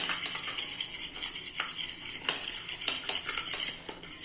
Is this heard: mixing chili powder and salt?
yes